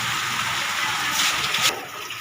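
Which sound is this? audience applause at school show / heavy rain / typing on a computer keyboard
heavy rain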